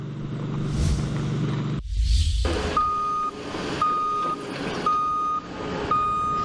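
A construction truck at a building site gives off a regular series of loud, steady reversing beeps over the rumble of its engine, with a hiss of air brakes just before the beeping starts.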